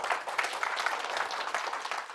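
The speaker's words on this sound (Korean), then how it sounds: "그러면 힘찬 박수를 부탁드립니다." A room full of people claps warmly and continuously, a dense patter of hands at steady volume with no voices over it.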